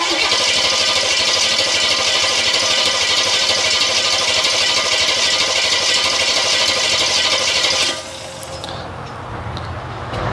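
An LSX V8 in a Chevrolet Biscayne is cranked over on the starter to build oil pressure: a loud, steady mechanical whirring for about eight seconds that then cuts off, leaving a quieter hum.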